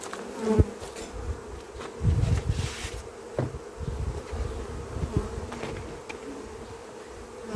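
Honey bees buzz close by at an open hive during spring inspection, droning in waves with individual bees passing near, alone without voices.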